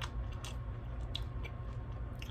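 Someone crunches and chews Cinnamon Toast Crunch cereal, giving repeated soft, close crackly bites with a moist, squishy texture over a low steady background hum.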